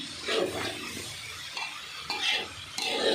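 Egg curry stirred in a pan, a spoon scraping and clinking against the metal in several uneven strokes over a soft sizzle, close and moderately loud, with no talking.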